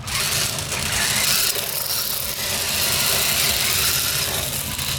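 An RBRC RB1277A omnidirectional 4x4 RC car with mecanum wheels drives on its first run, a continuous loud whirring motor drone with rattling, ratchet-like wheel noise throughout.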